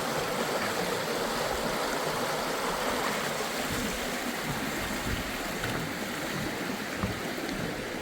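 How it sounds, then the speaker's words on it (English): Steady rushing of a flowing creek, a continuous broadband wash of water over rocks, even and close throughout with no voices. "Nice flowing creek here."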